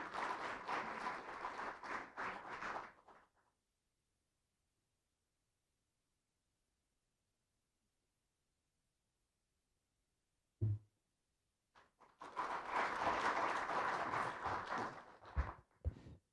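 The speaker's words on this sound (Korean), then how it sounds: "큰 박수로 맞아주시기 바랍니다." A hall audience claps to welcome the Korean Minister of Health and Welfare at a policy forum. Loud applause fades out after about three seconds, followed by a long silence, one brief knock, then a second strong burst of clapping.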